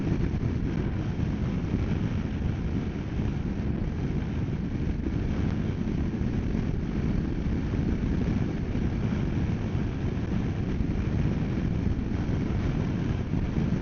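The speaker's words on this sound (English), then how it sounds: "A bit windy today, so you might get blown off course." Steady low wind roar buffets the microphone throughout, a constant rumbling rush with no voices.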